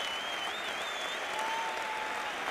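A stadium crowd at a La Liga match between Granada and Real Madrid applauds Modric as he leaves the pitch, producing a dense, steady wash of clapping from a large distant crowd.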